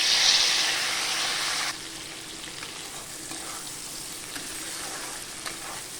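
Chopped onion and tomato fry with garlic paste and whole cumin in hot oil, a loud sizzle at first that settles into a steady, softer crackle with faint stirring scrapes.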